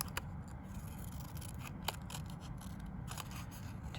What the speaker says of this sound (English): I'm turning my paper as I'm cutting, making sure to keep my fingers out of the way